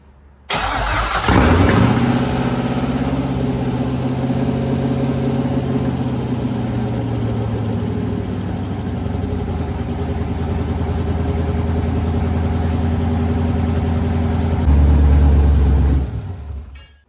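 An LS V8 swapped into a BMW E8x/E9x cranks and fires for its first startup, then settles into a loud, steady idle that holds for many seconds before a brief rev near the end.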